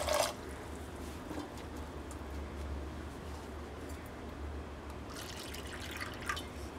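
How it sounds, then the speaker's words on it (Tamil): Water pours from a cup into a cooking pot holding sweet corn kernels, giving a soft, steady liquid trickle with a brief louder splash at the start and another stretch of pouring near the end, close by. "அதுக்கு வந்து 1 கப் தண்ணி ஊற்றுறேன்."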